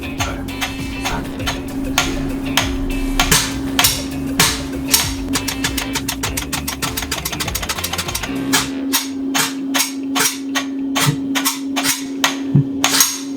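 A GHK Glock17 Gen3 gas airsoft pistol fires a rapid run of sharp, loud cracks, fifteen shots in all, the later ones spaced a little wider apart and cutting through a steady background hum.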